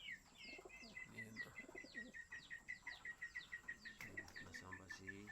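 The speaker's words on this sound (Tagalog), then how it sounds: "Ito yung mga ibon ko na lang natitira." Racing pigeons coo in repeated soft, throaty rolls close by, with bright bird chirps and twitters layered over a steady background hum throughout.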